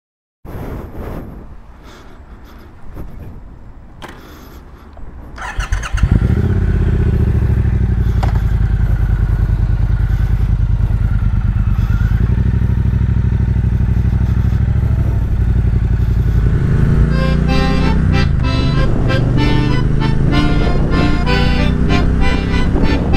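A motorcycle engine starts with a few clatters and fumbling sounds, then catches and settles into a loud, close, steady running note before pulling away as it rides off.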